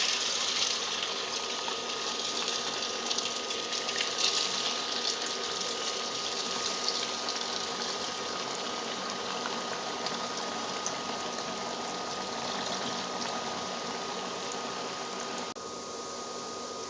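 Murukku, a curd-flavoured spiral snack, fries in hot oil with a steady, dense bubbling and sizzling hiss that stays close and even throughout, with no talking.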